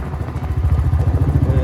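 A motorcycle engine putters at a steady low throb close by, with some rattling clatter over the running motor.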